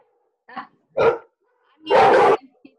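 A dog barks three times in close succession, two short sharp barks followed by a longer, louder bark, with near-silence between them and a faint yip at the end.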